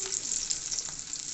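Green chillies fry in hot oil in a pan, sizzling and crackling steadily, a bright continuous frying hiss with no voices.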